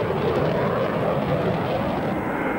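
An F-16 fighter jet in flight on its first, accidental flight in 1974, heard as a continuous, even, broadband engine roar that stays steady and fairly loud throughout, with no voices.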